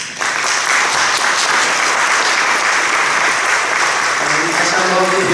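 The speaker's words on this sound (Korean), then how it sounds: "다시 한번 우리 배현석 목사님 뜨거운 박수 한번 주시기 바랍니다" Warm, sustained applause from a church assembly crowd for a pastor, a dense continuous clatter of clapping hands that starts abruptly and stays loud and even to the end.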